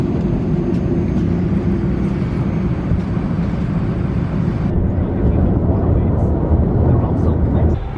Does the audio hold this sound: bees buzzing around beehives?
no